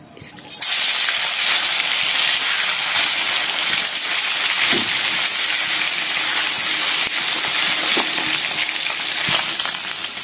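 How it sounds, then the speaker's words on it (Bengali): Fish sizzle and spit steadily in hot oil in a wok, a loud, continuous dense frying hiss that holds for the whole stretch with small crackles throughout. "तो एखाने आमी माछगुलो भाइजे नेই"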